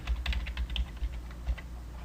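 Keystrokes on a computer keyboard as a password is typed during a virtual machine installer setup, a quick irregular run of light, close clicks with no talk.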